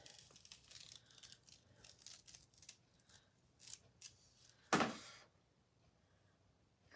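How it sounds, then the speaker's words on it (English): A transfer is peeled off a painted sign: quiet crinkling and rustling, then one sharp, brief ripping tear up close before it goes nearly silent. "Now I'm going to go ahead and peel this off."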